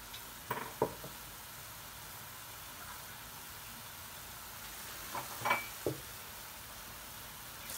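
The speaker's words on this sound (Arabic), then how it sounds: "واقلب بسرعه عشان الخليط ما يكلكعش معاكي" Milk mixture for oven-baked macaroni is stirred quickly in a pot, giving soft scraping and sloshing bursts near the start and again midway over a quiet background.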